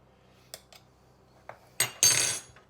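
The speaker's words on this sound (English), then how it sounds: "get your spoon and just tuck it down" Metal spoon clinking against a tarte tatin pan while tucking pastry down, a few light taps followed by a louder scraping clatter, close and brief.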